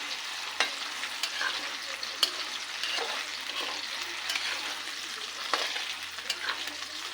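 Egg and potatoes fry in a pan with a steady, moderately quiet sizzle and crackle, broken by a few sharp clinks and scrapes of stirring.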